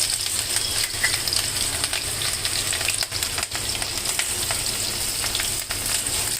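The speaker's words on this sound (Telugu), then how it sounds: "పచ్చిమిర్చి బాగా తెల్లగా రావాలి వేగడానికి" Chopped green chillies fry in hot oil with a loud, dense and continuous sizzle that crackles steadily throughout, with no voices.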